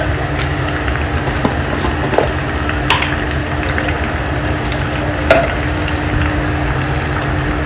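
Cumin tadka sizzles in hot oil in a home kitchen, a steady loud frying hiss throughout with a few faint clinks.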